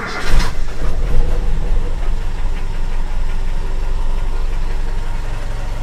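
A warmed-up Toyota Kijang Super idles with the distributor's vacuum advance hose disconnected, a loud, steady, rough engine rumble after a brief louder knock at the start.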